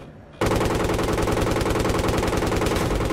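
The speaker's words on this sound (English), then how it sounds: "There's a AA gun." Rapid automatic cannon fire from an anti-aircraft gun in the Battlefield 3 video game, a loud sustained burst of closely spaced shots that starts abruptly after a brief quiet moment and continues without pause.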